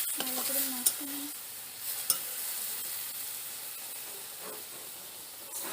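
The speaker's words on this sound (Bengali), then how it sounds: "ভালো করে তেঁতুলের জলটার মধ্যে মিক্স করে নেব।" Peanut chutney stirred into tamarind water for a vegetarian peanut sauce, giving a soft wet mixing and scraping sound with a few sharp spoon clicks against the bowl, close and fairly quiet, with no talking.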